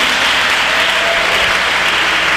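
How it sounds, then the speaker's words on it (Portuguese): Church congregation applauding during a worship service, a loud, dense and continuous burst of many hands clapping together, steady throughout. "Aplauda e glorifica o nome de Jesus"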